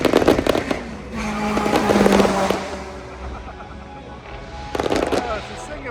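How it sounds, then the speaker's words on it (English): Fireworks crackle and pop in bursts mid-afternoon at the Goodwood Festival of Speed, at the start, around the middle and again near the end, with people talking throughout. "Bit of fireworks mid-afternoon."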